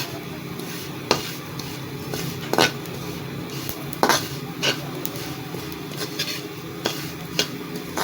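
Poppy seeds roasting in a kadhai (wok), stirred with a spoon, giving sharp metallic scrapes and clinks at irregular intervals over a steady low sizzle.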